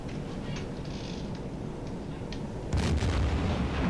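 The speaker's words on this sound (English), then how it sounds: "Torpedo impact. Oh no. The other one got hit also." A torpedo slams into a ship in the naval submarine game Silent Hunter, a sudden deep booming impact that swells over a low, steady rumble and lingers to the end.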